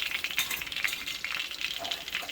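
Chicken cutlets frying in oil in a pan, with a steady close crackle and spitting sizzle throughout, no talk.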